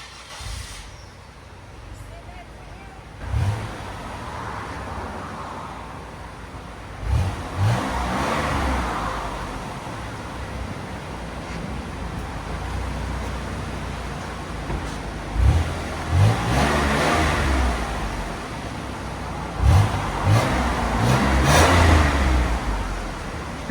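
Stock 2003 Buick Regal with a supercharged 3.8L V6 and factory exhaust, idling at a steady drone and then revving in several short bursts, with people talking nearby.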